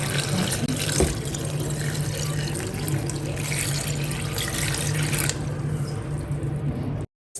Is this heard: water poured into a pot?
yes